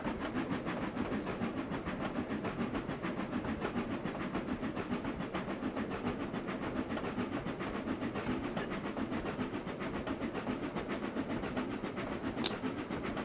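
A steady, continuous train rumble with a rhythmic clatter from the Trainz Railroad Simulator 2019 game holds constant the whole time, with no voices over it.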